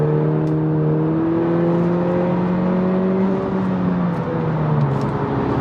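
A 2020 Honda Civic Si engine holds a steady, loud rev from inside the car, its RPMs hanging between gears with a slight droop toward the end, droning continuously with no talking.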